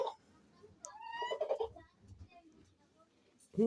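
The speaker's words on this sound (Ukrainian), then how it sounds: "Півень покликав, щось там знайшов, і вони собі разом." A rooster gives a few soft clucking calls among hens, calling them to something it found, close by, with a person talking quietly in between.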